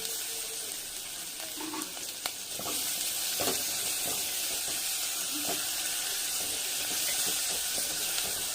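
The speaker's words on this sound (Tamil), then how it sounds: "கேப்சிகம் போட்டலாம். கொஞ்சமாக போட்டால் போதும். போட்டு வதக்கிக்கலாம்" Capsicum sautéing in a pan for a pasta fry masala, a steady broadband sizzle with occasional stirring knocks and scrapes, close and moderately loud, no voices.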